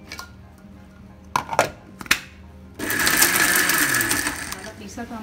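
A kitchen mixer grinder blends ginger, garlic and garam masala with a little water for Afghani pulao, a steady loud whirring grind that starts partway through after a few clicks and knocks.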